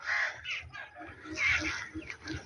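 Large birds caw repeatedly in a mango orchard in Multan, with harsh, crow-like calls that are fairly close and come in quick bursts.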